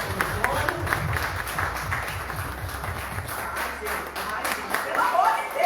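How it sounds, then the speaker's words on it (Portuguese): A church congregation claps for Jesus during a Portuguese-language service, a steady rhythmic clapping spread through the room and heard alongside ongoing talk. "Uma salva de palmas para Jesus."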